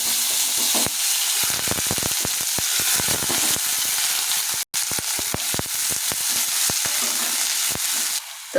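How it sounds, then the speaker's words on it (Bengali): Onions fry in hot oil seasoned with bay leaf, chilli and cumin, a loud continuous sizzle close up, punctuated by frequent sharp crackles and pops throughout, with no voices. "তেল আমার গরম হয়ে গেছে, আমি তেজপাতা লঙ্কা আর জিরে দিয়ে দিলাম পেঁয়াজ।"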